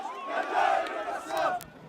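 A West Bank crowd greeting returning Palestinian prisoners: a dense swell of many excited voices shouting and calling out together. It rises and falls in waves and stays close and loud throughout.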